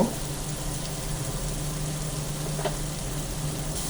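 Tular dandi fish frying in a pan makes a continuous, fairly loud sizzle like steady rain, with a faint stirring scrape partway through.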